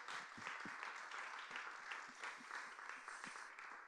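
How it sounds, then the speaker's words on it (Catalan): Audience applause at a book presentation of testimonies from women, steady dense clapping from a crowd lasting throughout, fairly even in loudness with no speech over it. "Un aplaudiment."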